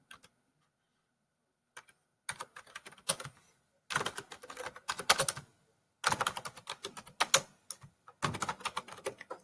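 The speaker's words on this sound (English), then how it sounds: "and I have to type all that in." Computer keyboard typing in bursts of rapid key clicks separated by short pauses, close and clear with no voices, as text is entered into a Microsoft Word report.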